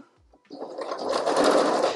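A sewing machine stitches a tiny bra cup for a Barbie doll dress, starting after a brief pause and then running in a close, continuous, loud whir.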